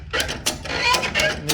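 A ratchet winch strap clicks in quick uneven bursts as it is cranked tight to pull a curtain taut, loud and close, with no talking.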